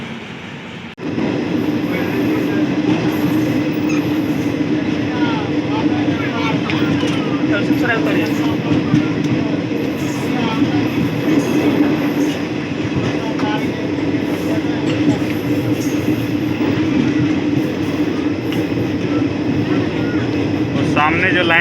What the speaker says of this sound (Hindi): अवध असम एक्सप्रेस भी यहाँ से रवाना हो रही है